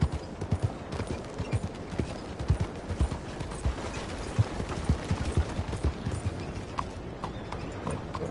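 Horse hooves clop in a quick, steady rhythm on hard ground in Red Dead Redemption 2, close by, continuing throughout with faint mechanical clanks in the background.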